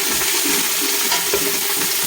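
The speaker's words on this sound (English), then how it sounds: "That's the water coming out of the peppers." Peppers sizzle steadily in a hot pan as their water cooks out, a continuous close frying hiss with no talk over it.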